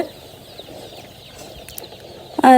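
Soft, scattered clucking from a few chickens being unloaded at a poultry farm, over a low background murmur, ending in a sudden loud burst of squawking near the end.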